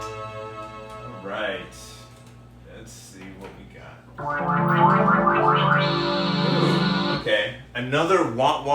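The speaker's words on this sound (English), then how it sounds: "Another wah-wah bass sound." A Korg Poly 800 synthesizer plays a wah-wah bass patch, a thin lead first, then a loud, sustained, swelling bass line with sweeping filter tones from about four seconds on, processed with delay and chorus-like effects.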